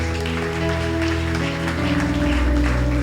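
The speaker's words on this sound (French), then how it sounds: "Est-ce qu'on peut acclamer très fort les Seigneurs?" A church congregation applauds the Lord during a Sunday service, a dense, loud wash of clapping spread over a sustained musical backing with low organ or keyboard tones.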